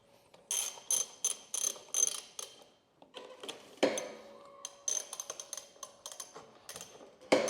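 A wrench working 10mm nuts on a Ryobi lawnmower carburetor, close-up bursts of quick metallic ratcheting clicks in short groups with brief pauses between them.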